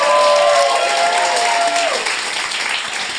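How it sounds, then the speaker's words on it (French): Close, loud audience applause during a podcast taping, steady clapping with a few whoops riding on top early on, easing slightly toward the end. "Bonne main d'applaudissement pour Gab."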